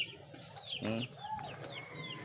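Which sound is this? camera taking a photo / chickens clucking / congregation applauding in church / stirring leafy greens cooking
chickens clucking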